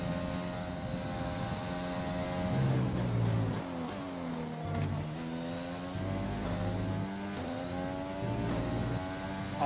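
An F1 race car engine in the F1 2020 video game at Bahrain screams at high revs, with rising and falling pitch sweeps through gear changes and braking, loud and continuous, with no talking.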